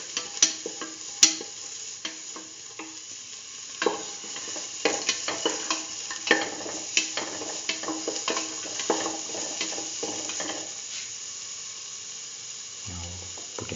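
A spatula scrapes and stirs potato, chayote and rice being sautéed in a pan, producing irregular clattering strokes over a soft sizzle, with a low thud near the end.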